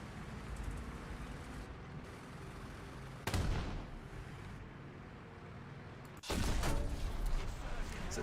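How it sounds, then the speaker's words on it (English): A tank cannon in War Thunder fires a HEAT shell at a tank's cupola: two loud, sharp blasts a few seconds apart, each followed by a rumbling tail over steady background noise. "We're just gonna shoot the cupola."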